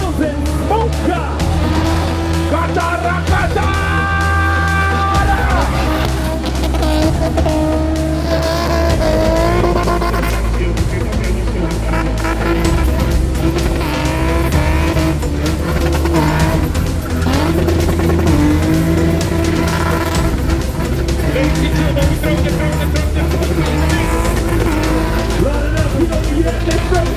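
BMW cars at a club event spinning their wheels and smoking the tyres, a loud continuous roar of engines and squealing rubber with shouting crowd noise throughout.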